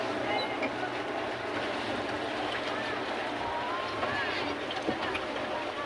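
A pedal boat moving across open water, a steady wash of water and wind noise, with people chatting close by throughout.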